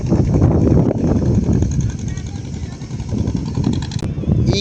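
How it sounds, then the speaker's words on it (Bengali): A small fishing trawler's engine chugs with a rough, rapid rhythmic throb on a Sundarbans river, fairly close and loud, with a voice faintly mixed in. "এদিক থেকে একটা মাছ ধরার ট্রলার আসছে"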